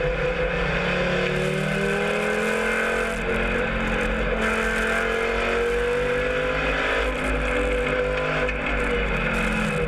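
Loud, continuous roar of race car engines, including BMWs, at Wakefield Raceway, with shifting pitch as cars rev and pass close by, no talking.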